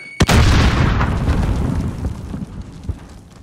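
A grenade blast in Call of Duty: Modern Warfare, one sudden heavy boom followed by a long rumbling decay with debris crackle, loud and close.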